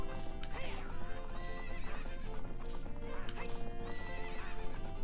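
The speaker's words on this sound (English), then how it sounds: "We're racing the horses." Horses neigh and gallop during a horse race in Zelda: Ocarina of Time, with steady rapid hoofbeats running throughout and several whinnies rising over them, fairly close and continuous.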